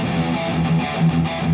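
An electric guitar plays through the Randy Devil distortion preset, modeled on a Randall Satan amp, on a LEKATO PA-1 headphone amplifier, a brief burst of heavily distorted, chugging chords played close and loud.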